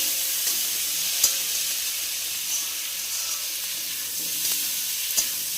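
Grated ginger and tomato fry with potatoes in a hot pan for an egg omelette curry, giving a constant close sizzle with a few light clicks of stirring throughout.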